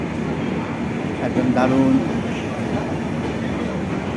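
A passenger train pulls out on a trip to Sikkim, and a low steady rumble of wheels on rails is heard from inside the carriage. A voice speaks briefly over the rolling noise partway through.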